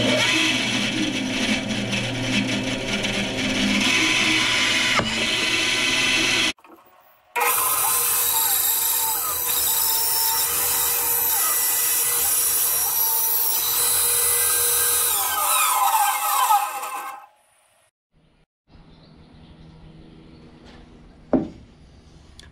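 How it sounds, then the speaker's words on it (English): Bandsaw cutting a piece of wood to shape a kitchen scoop, a loud steady whine and rasp in two long passes separated by a short silence, ending with quiet handling noises and a sharp knock. "we're going to take the bandsaw and we're going to cut this part out"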